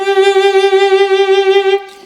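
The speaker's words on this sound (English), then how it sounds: "we get a little bit more vibrato feel and a little bit warmer sound." A sustained violin or viola note with lighter finger pressure produces a wider, warmer vibrato with a regular pulsing waver, close and solo before it stops.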